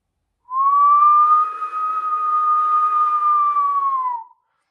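A person whistles loudly without using fingers, one long steady tone holding for about four seconds with a slight rise at the start and a dip at the end, close and clear with no talk.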